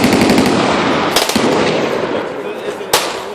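A costly machine gun fires at the Knob Creek shooting event, heard as a rapid, dense rattle with a couple of sharper loud reports standing out, set amid a noisy outdoor range crowd with voices in the background.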